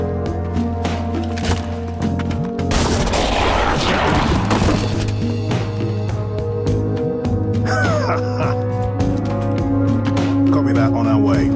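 A frag grenade explodes in the video game XCOM 2, a loud broadband crash and boom with splintering debris over steady game music and ambience.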